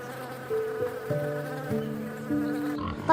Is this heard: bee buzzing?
yes